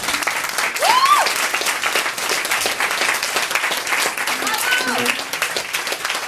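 Audience applause at an International Women's Day event, a dense steady wash of clapping filling the room from start to finish, with brief voices and calls rising over it.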